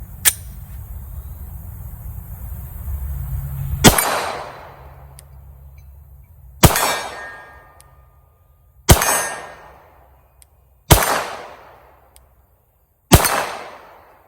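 Five sharp Glock 48 pistol shots ring out at irregular intervals against steel targets, each crack followed by a fading metallic ring, preceded by a steady low rumble of outdoor background noise.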